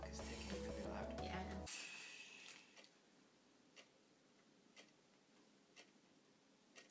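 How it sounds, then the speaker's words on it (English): A clock ticks indoors, faint but distinct, at a steady pace of about one tick per second, after a brief louder burst of noise at the start. "That clock is ticking really loud."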